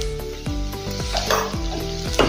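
Half a spoon of cumin powder is stirred into a sizzling pan of oil for Mexican rice. A close, steady crackle runs under repeated scraping spoon strokes, with no talking.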